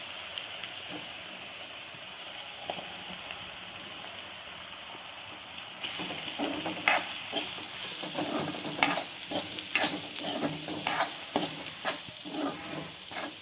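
Oil tempering sizzles quietly in a pan, then a spoon begins scraping and stirring it into ragi flakes in uneven strokes, getting louder partway through; nobody speaks.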